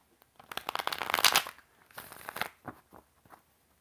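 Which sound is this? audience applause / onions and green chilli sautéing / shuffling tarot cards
shuffling tarot cards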